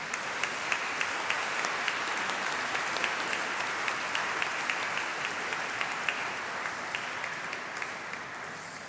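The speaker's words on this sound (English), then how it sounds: "Perhaps you can join me in a round of applause for everyone here on stage who's helped you" Sustained applause from a large audience at a College of Arts and Law summer degree ceremony, an even, dense roar of many hands clapping that holds steady for nearly nine seconds before easing slightly.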